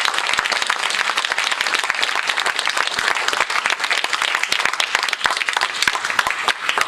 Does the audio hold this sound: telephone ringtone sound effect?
no